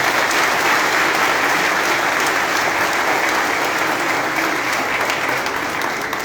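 Crowd applauding at a political rally, a steady, dense wash of clapping from many hands that holds at full strength for about six seconds with no voices standing out.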